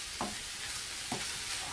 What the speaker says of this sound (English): just give these a bit more frying time